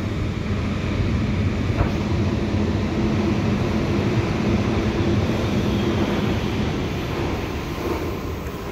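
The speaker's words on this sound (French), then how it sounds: "ICE 3 Neo si je me souviens bien normalement." An ICE 3 Neo high-speed train passes nearby, heard from inside a metro, a steady loud rumbling roar with broadband rail noise holding for several seconds, no voices over it.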